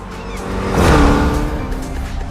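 A Toyota Gazoo Racing car in a video game revs up, its engine pitch sweeping up and down as it swells to a peak mid-clip and then eases off, loud and close.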